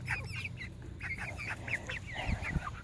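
Several chickens, roosters and hens, call over one another in quick, squawky bursts against a steady outdoor rumble, fairly close and moderately loud.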